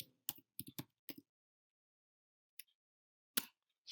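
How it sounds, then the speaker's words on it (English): Sparse keystrokes on a computer keyboard during web coding, a quick cluster of taps followed by isolated clicks after a pause, quiet and close in an otherwise silent room. "I'm going to type dot profile"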